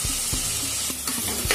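Chopped onions sizzle steadily in a pan on the stove while being stirred, with several short scraping strokes over a close, even frying hiss.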